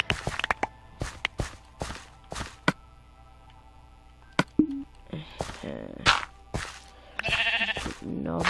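Sheep in the video game Minecraft give several short bleats, scattered among quick clicking footsteps and brief game sounds, with no one speaking.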